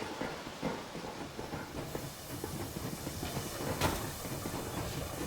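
A steam train in the video game Metro Exodus chuffs and hisses as it pulls away, with rhythmic clatter under a steady rumble at moderate volume.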